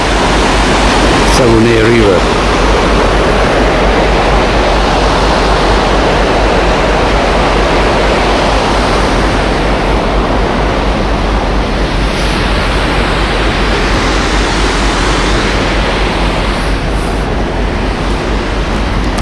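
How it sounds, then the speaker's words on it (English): Flowing water of the Saguenay River, Canada, heard as an unbroken broadband rush, close and loud, with a brief clatter near the start before the even roar settles in. "The river, Saguenay River."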